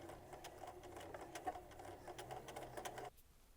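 A sewing machine stitches fabric for a jellyfish cat toy, a quiet, steady rapid whirring run lasting about three seconds before stopping abruptly, heard alone and close.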